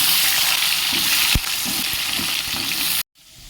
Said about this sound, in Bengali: তেল গরম হলেই কেটে ধুয়ে পরিষ্কার করে রাখা এই ওলগুলো আমি ভেজে নেব